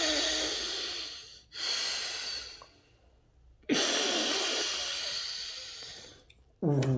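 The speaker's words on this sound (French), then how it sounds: "C'est le souffle du dragon, je ne maîtrise pas tant que ça" Dragon breath breathing technique: long forceful breaths, close and airy, in three extended rushing exhalations separated by short quiet pauses, the last cut off as it begins.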